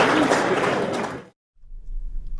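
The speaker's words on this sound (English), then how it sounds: "give a round of applause, please" Audience applause for panelists at a 2013 conference on the JFK assassination, a dense, loud wash of clapping that cuts off abruptly partway through, followed by a faint low hum.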